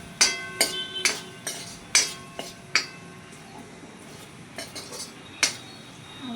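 Spiced potatoes are stirred in a cooking pan for sabudana khichdi, with a spoon clinking and scraping against the metal in irregular sharp knocks, about a dozen close taps spread over several seconds.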